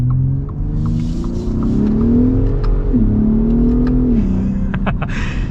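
Ford F-150 Raptor accelerating hard, its engine roaring loudly and climbing in pitch, dipping briefly at a gear change before pulling again, close and continuous.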